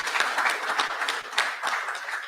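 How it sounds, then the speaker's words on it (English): A school audience at a ceremony gives a round of applause, dense overlapping hand claps forming a steady, fairly loud wash with brief swells, no voices on top. "I want us to give the students a special round of applause this afternoon"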